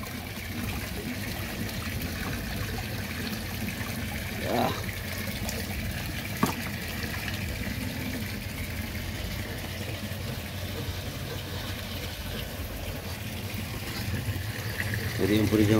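Water from a tap splashes and trickles steadily into a koi pond, a continuous close watery rush with a voice speaking briefly over it.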